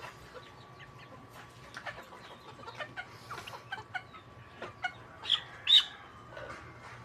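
Backyard chickens, including a hen with a freshly hatched brood of chicks, clucking and chirping in a steady scatter of short calls, with a few louder squawks near the end against faint background noise.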